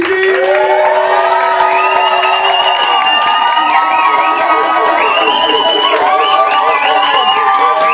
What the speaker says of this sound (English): Please start your clapping and cheering.